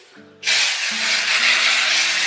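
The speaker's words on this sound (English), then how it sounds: "Spray the roots." A short quiet rustle, then a steady loud hiss of aerosol hair spray sprayed on hair roots, held for about two seconds, close by.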